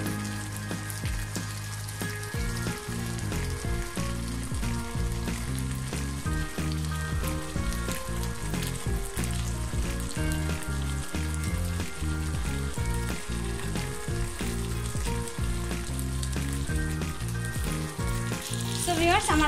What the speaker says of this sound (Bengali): আমি সসটা দেওয়ার পরে 2-3 মিনিট রান্না করে নিচ্ছি ভিউয়ার্স